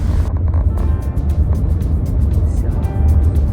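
A car driving, with steady engine and road rumble and wind noise filling the whole stretch from inside the moving vehicle, no talk over it.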